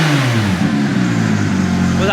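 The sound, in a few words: Porsche GT3 997.2 engine revving with Inconel exhaust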